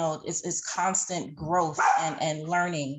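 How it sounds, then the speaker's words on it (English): A dog barks and yips repeatedly close by, the barks mixed in with someone speaking during an indoor panel discussion. "I'm sorry about my dog."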